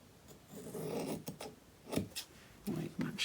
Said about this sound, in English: And I'll cut my ribbon off to length.